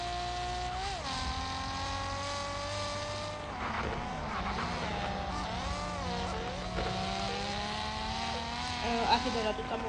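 Car engine in the mobile driving game Car Parking Multiplayer, a steady droning tone that rises and falls in pitch as the car revs and shifts, with tire squeals and a voice talking over it.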